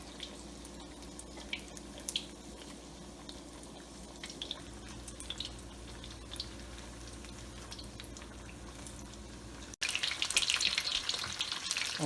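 Boneless Cantonese-style chicken frying in hot oil at around 350 to 375 degrees, giving a steady, dense sizzle with scattered pops and crackles, then a sudden louder, brighter burst of spattering near the end.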